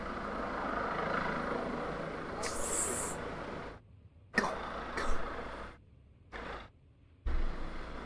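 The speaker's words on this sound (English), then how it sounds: "That's the one from the nearby hospital, Chopper." A hospital helicopter flies over nearby, making a steady broad rumble that cuts out abruptly several times with short silent gaps.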